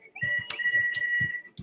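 A steam locomotive whistle from Thomas the Tank Engine sounds one long sustained tone, steady and fairly close, broken by a few short clicks and knocks.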